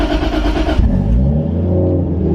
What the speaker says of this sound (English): I put the key in, turn the car on.